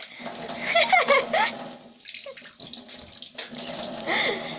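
Water runs from a tap during washing, a splashing stream that is strongest early on and then continues more unevenly, with voices speaking over it.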